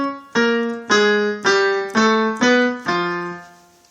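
Piano notes struck as octaves, six clear strokes about half a second apart, each lower and higher pitch sounding together and decaying before the next, close and alone with no talk.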